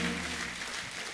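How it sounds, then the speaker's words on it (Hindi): A studio audience at a comedy show claps in steady, continuous applause, a moderately loud wash of many hands with a faint low hum underneath. "जोरदार तालियां।"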